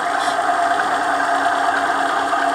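A bearing friction test machine spins a greased race under added weight, coated with Mobil 1 synthetic grease, producing a loud, even mechanical whir that holds steady without a break.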